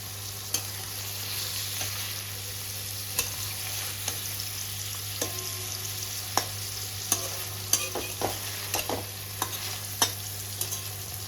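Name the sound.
paneer frying in hot oil, stirred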